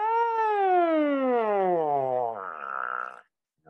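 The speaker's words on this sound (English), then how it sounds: "So I like to have them buzz sirens, which is just, you know, start on a low pitch," Siren glissando buzzed on a trombone mouthpiece, a single buzzy, reedy tone sliding smoothly downward from high to low, then briefly wavering before cutting off, close and loud.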